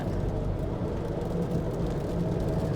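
A Ford Escape converted to run on LPG hums steadily as it pulls away, a low, even engine drone heard from inside the car with no voices.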